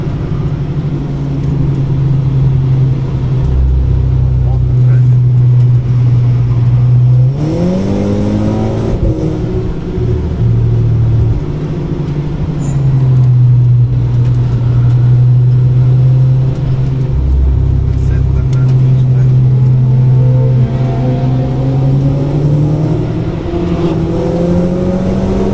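VW Scirocco race car at the Nürburgring, its engine droning loud and steady at high revs, with gear shifts causing brief drops and climbing pitch sweeps as it accelerates, heard close from inside.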